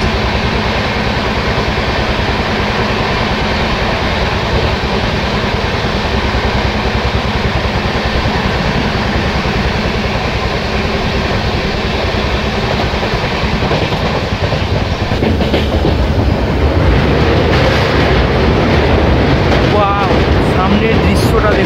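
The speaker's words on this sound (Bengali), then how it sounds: "ট্রেন এখন বেশ ভালো গতিতে ভুবনেশ্বর নিউ স্টেশন স্লিপ করছে।" Jan Shatabdi Express running at speed past Bhubaneswar New station in the morning, a loud steady rumble of wheels and carriage noise throughout, with rattling clatter picking up near the end.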